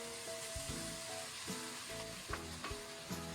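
A sauce of seasoning and starch poured into a wok of stir-fried garlic scapes and eggs, giving a steady, close hiss of sizzling with faint scraping and clinks now and then.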